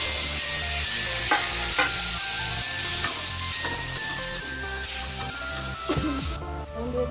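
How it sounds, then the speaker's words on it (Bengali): Black mustard seeds and chili tempering in hot oil, a steady crackling sizzle with sharp scattered pops and occasional stirring, close up with no talking. "তেলের মধ্যে আমি দিয়ে দিলাম কালো সর্ষে, লঙ্কা ফোড়ন দিয়ে দিলাম।"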